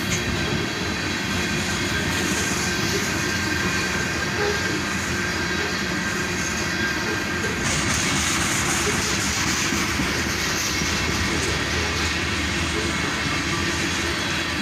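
Freight cars of a large iron ore train roll by close and continuous, a steady rumbling clatter of wheels on rails that grows slightly brighter partway through.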